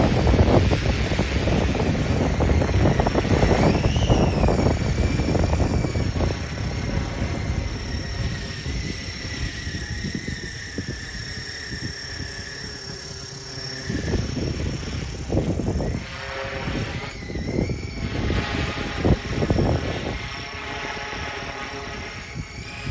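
The whine of a small RC helicopter drone's rotors rises and falls beneath heavy wind buffeting the microphone in gusts up to 25 mph, loud throughout.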